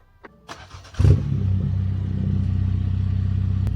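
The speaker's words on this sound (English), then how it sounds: "I can kind of give some revs and we can see right now how it sounds." A BMW 330e fitted with a new exhaust idles, then gets revved. A few clicks and a short burst come first, then the engine swells into a steady, loud, close droning hum that holds to the end.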